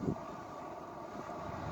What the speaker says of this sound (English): Ooh, and it is windy too.